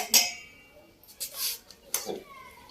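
A metal spoon is set down into a small pot in a village kitchen, giving a few light clinks and taps spread over a couple of seconds, close and fairly quiet.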